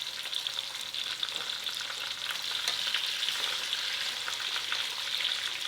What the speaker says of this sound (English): I'll do 3 minutes on one side, just till it's crispy and brown, and then I'll flip it to the other side.